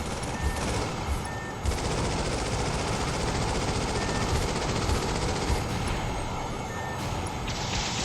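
Rapid, sustained gunfire from a mech's guns in the flight combat game Project Nimbus, a dense continuous rattle with broadband blasts and a few beeping tones in the mix, loud and steady throughout.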